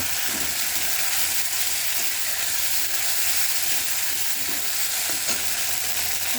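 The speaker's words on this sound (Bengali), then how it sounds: "মিক্সিতে করে রাখা মশলাগুলো কড়ার মধ্যে দিয়ে ভালো করে কষিয়ে দেব" Ground spice paste frying in oil in a kadai, a loud steady sizzle that stays even throughout, with faint stirring scrapes and no one speaking.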